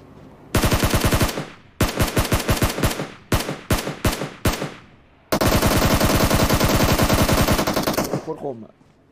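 Gunfire welcoming the New Year rings out close and loud, opening with a fast automatic string, then short separate bursts, then a long unbroken run of rapid shots that stops abruptly.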